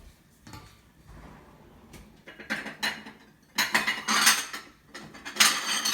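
Mung bean porridge ladled into a bowl in a home kitchen, heard as a run of clinks and scrapes of a ladle or spoon against dishes that grow louder and busier toward the end, with no talking.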